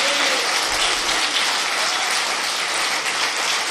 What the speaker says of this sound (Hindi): दोबारा भी इतनी तालियां मिली।